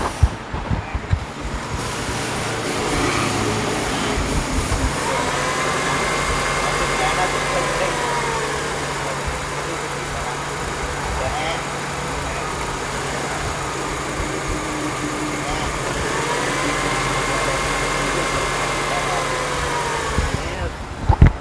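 A car engine idles steadily throughout a carburetor repair in a workshop, a constant low rumble with someone talking over it.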